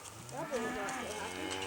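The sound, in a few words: Dexter cattle, newborn heifer calf and its mother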